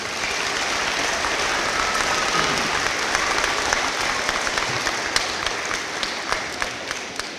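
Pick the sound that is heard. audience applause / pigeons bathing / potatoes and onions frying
audience applause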